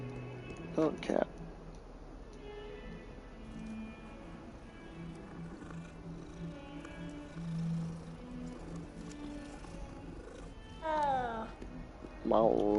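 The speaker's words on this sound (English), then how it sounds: "Oh, cat." A cat meows in the video game Hogwarts Legacy, a few short rising cries near the start and again near the end, with ticking game sounds and a player talking in between.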